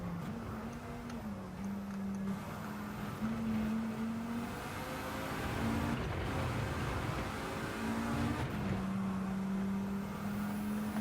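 Race car engine in a video game holding a high, steady whine at around 150 mph on a track, with pitch dips and rises through corners and a constant loud drone throughout.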